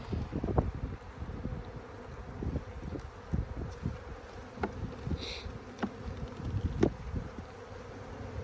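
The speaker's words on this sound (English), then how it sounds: "A lot of bees for sure." Honeybees buzz around an open hive being split, a continuous outdoor drone with individual bees passing close to the microphone, plus light handling knocks and rustles.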